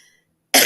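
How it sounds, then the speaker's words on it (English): A single sharp cough from someone with a lingering cold bursts out suddenly after near-silence, loud and close. "I still got the little nasty little cough that I got from that cold"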